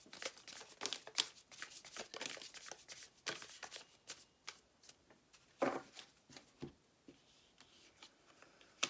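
Tarot cards being shuffled by hand, a rapid, close, crisp riffling with soft papery flicks and taps, fairly quiet and continuous throughout with no talking.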